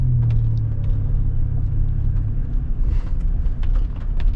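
A Ford F150 pickup with intake, exhaust and tune mods idles with a deep, steady engine and exhaust rumble, heard close and loud with a faint low drone and no talking.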